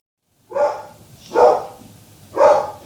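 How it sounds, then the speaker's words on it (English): Several dogs bark in three separate bursts about a second apart, the noise fairly close and loud against a quiet background, with no speech. "my dogs flip out in the background"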